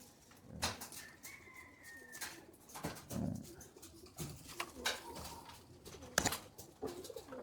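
Pigeons coo and flutter inside a loft, soft calls and wing rustles scattered over the stretch, with a dog barking intermittently nearby.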